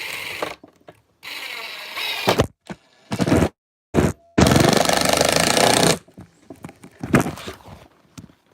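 A power drill drives a screw into wood while assembling a bluebird house, in several loud bursts, with whirring, rattling pauses and a final longer grinding run, close by.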